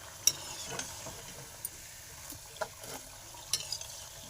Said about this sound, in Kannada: ಈಗ ಇದು ಫ್ರೈ ಆಗಿದೆ ಇನ್ನು ಸ್ವಲ್ಪ ಫ್ರೈ ಮಾಡಿಕೊಂಡು ಪಕ್ಕ ತೆಗೆದಿಟ್ಕೊಳ್ಳೋಣ